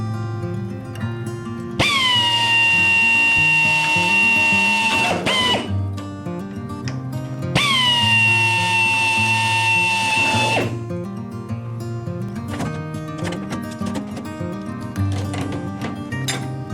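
A handheld drill with a number 52 bit bores holes in aluminum stabilator parts of a Van's Aircraft RV-12iS, two high whining bursts of several seconds each, with clicking handling noise between.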